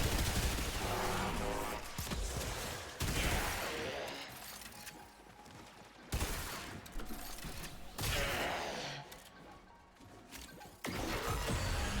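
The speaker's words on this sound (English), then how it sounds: "I appear to be under heavy fire." Heavy gunfire in Warframe comes as repeated loud bursts of clattering shots and crashes, each volley lasting a couple of seconds with brief lulls between, over a steady mechanical din.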